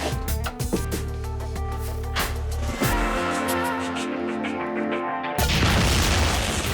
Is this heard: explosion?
yes